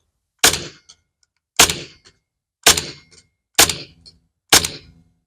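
Five sharp airsoft shots from a KWA KMP9 replica fitted with its stock bolt, firing 0.25 g BBs on Nuprol 2.0 gas, evenly spaced about a second apart, each a crisp close crack with a short fading tail.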